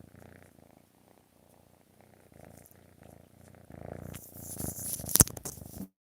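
A soft, steady purr rumbles close to the microphone, followed by louder rustling and handling noise near the end.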